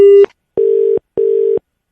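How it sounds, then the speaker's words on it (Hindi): A loud, pure telephone tone repeats in short, even pulses with silent gaps between them, like a busy or disconnect signal after a call is cut off. No one speaks. "बार बार फोन क्यों काट रहा है तू?"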